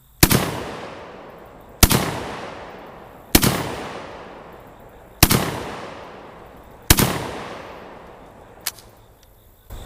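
JTS M12AK shotgun firing 3 1/4 dram dove loads with 7.5 shot, five loud sharp blasts spaced about a second and a half apart, each ringing out into a decaying echo, followed by a faint click.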